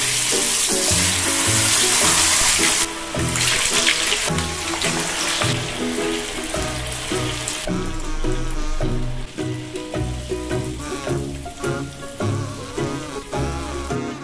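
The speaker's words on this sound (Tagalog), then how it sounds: "Pero ipiprito ko nga pala ito yung tokyubs." Tofu cubes frying in cooking oil, a steady hissing sizzle that fills the first half and then thins out, mostly buried under loud background music.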